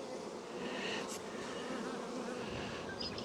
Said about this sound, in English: I don't want to bother the bees too much that are right around the queen.